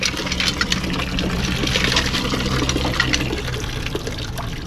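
Water gushes forcefully from a pump in a steady, continuous stream, with a splashy hiss over a low mechanical hum.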